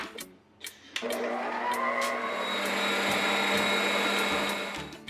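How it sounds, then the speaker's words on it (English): Butter and sugar being beaten with an electric whisk: a loud, continuous whirring motor that starts after a few light taps and runs steadily for several seconds, with no talking. "Add 1/4 cup sugar and whisk for a minute."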